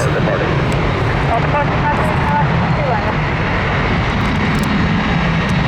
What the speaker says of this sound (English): Delta 130, clear for takeoff